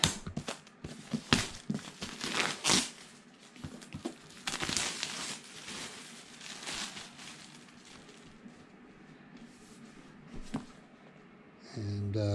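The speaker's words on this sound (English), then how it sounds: "Take off the cellophane." Cellophane wrap being peeled and crumpled off a product box during an unboxing, loud close crinkling and tearing in irregular bursts that fade into quieter rustling, with a short clunk at the end.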